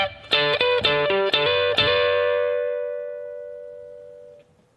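A short guitar phrase, with a quick run of about six plucked notes and chord stabs, then one note left ringing and fading slowly, played close and alone.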